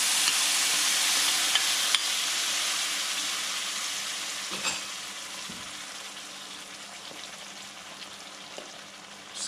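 Spices and seeds fry in hot oil for a Punjabi chole masala, giving a bright, continuous sizzle with a few light stirring clicks. The sizzle slowly softens over several seconds.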